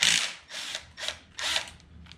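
A hand ratchet turns a bolt loose on a 2006 Mustang 4.0 V6 engine during timing chain work. Four or five short, close, crisp clicking bursts are separated by brief pauses.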